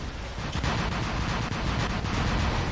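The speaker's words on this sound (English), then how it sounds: "that was a Crisis Reaper that just fired at us" A Crisis Reaper robot in the War Robots game fires on the player with a dense, loud, continuous barrage of heavy weapon blasts that rumbles without pause for the whole stretch.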